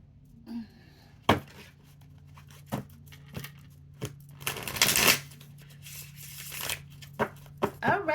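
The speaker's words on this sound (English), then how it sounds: "Let's pull some tarot cards." A deck of tarot cards is shuffled and handled up close, with sharp riffling snaps, short flicks and one longer dense burst of fluttering cards, against a soft background hum.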